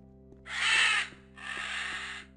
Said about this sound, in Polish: Skąd te dźwięki jakby ścierwojadów?